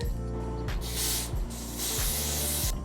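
Repeated hissing bursts from a spray bottle sprayed onto a synthetic wig, several quick squirts in a row with a faint clicking between them, close and clear.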